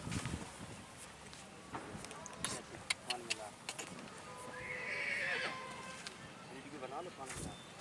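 A horse whinnies at the busy Pushkar horse fair in India amid hoof clip-clops and a crowd of people talking nearby, with one clear neigh rising in the middle.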